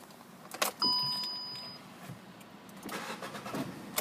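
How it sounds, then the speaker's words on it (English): A white Volkswagen Up BlueMotion small petrol car starts up: a brief key jingle, a short starter crank, then a steady idle hum, with a bright electronic chime over the start. "And if we just get the car started."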